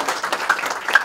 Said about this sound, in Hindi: चलो एक जोरदार ताली फिरी लड़कन के लिए बजाओ।